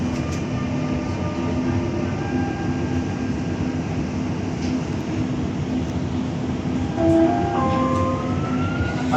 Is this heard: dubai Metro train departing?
yes